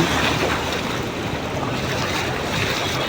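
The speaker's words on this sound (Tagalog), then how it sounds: "parang dagat ah, naalon" A motorcycle pushes through deep flood water, producing a dense, continuous rush of churning water and waves mixed with wind noise, loud and close throughout with no speech.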